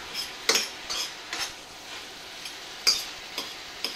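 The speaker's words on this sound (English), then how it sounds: "So just mix it all together." Leftover goulash is mixed together in a pot, heard as a series of scraping stirs and light utensil knocks against the metal, irregular and close, with no talking.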